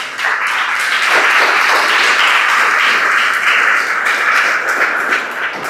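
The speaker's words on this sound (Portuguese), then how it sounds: "Glorifique o Senhor com as palmas." A church congregation at a family worship service claps hands in praise; loud, dense, continuous clapping from many people, sustained evenly before trailing off at the end.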